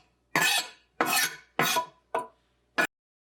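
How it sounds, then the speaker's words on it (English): Onions for a marinara sauce go into olive oil in a pan, five separate bursts of sizzling and scraping, each dying away quickly and the last one short, with quiet gaps between them. "and then I put the onions in"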